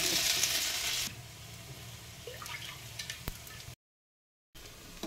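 Potato leaf fritters (bora) sizzle and crackle in hot oil in a kadai, a loud bright burst at first that settles into steady frying with small pops, cut by a short silent gap near the end.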